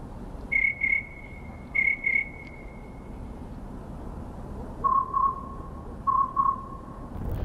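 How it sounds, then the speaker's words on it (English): Cricket chirp sound effect from the video game Mech Islet: four pairs of clear electronic chirps, the first two pairs higher in pitch and the last two lower, over a faint steady hiss. "It sounds like it'll be making cricket sounds"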